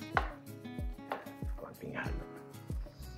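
A knife slicing a medium carrot on a cutting board for chicken afritada, five sharp evenly spaced chops close up, with a voice heard in places.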